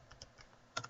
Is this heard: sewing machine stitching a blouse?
no